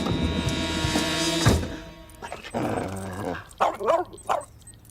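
A dog gives a few sharp, close barks in the second half, after a sustained tonal sound at the start.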